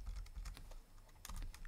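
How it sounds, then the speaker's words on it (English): Quick, uneven typing on an unfamiliar computer keyboard during a Linux command-line demonstration, a dense patter of close, quiet key clicks with a brief lull midway and no talking. "I'm not too much used to this keyboard here"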